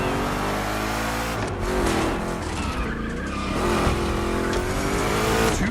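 Two Chevrolet big-block cars racing in The Crew Motorfest video game: a loud, continuous engine drone with rising and falling revs and squealing tires through rough turns, close and steady with no talking.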